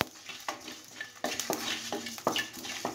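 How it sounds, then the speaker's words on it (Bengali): Whole spices dry-roasted in a pan for a jujube (kul) pickle spice mix, with repeated scraping and stirring clinks of a spatula against the pan, steady and close, no talking. "খোলায় ভালোভাবে ভেজে নেব।"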